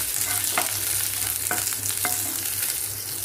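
Four dried red chillies sauté in a pan for a quick chutney, giving a soft, steady sizzle. A few light scrapes and taps from a stirring spoon break through, with no voices.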